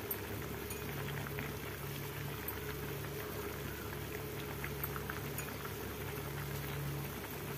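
Simmering Telugu-style egg curry with fenugreek as gram flour batter is added, a steady bubbling boil with soft liquid churning, close and continuous without talking.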